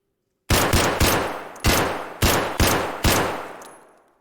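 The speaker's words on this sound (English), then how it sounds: "at the hideout, trying out the new guns. Start with the original SKS." Original SKS rifle in Escape from Tarkov firing seven loud, sharp semi-automatic shots at an uneven pace, each with a ringing decay, close and alone after a moment of silence.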